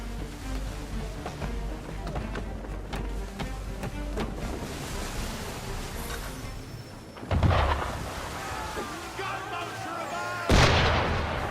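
Ship cannon fire in Assassin's Creed 3 booms out in two heavy, loud blasts, the second near the end, over a constant bed of wind, sea and ambient game noise.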